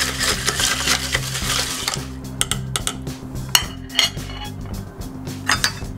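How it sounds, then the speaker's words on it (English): Crushed ice in a glass muddled with a disc spoon for a parsley julep, loud crunching and grinding of ice with clinks and taps of metal against the glass in uneven bursts. "Give it another little muddle with our disc spoon."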